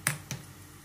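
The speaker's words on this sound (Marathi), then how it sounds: "आता गॅस चालू करते." A gas stove is switched on in a home kitchen, and the igniter gives two sharp, close clicks about a quarter second apart, followed by quiet.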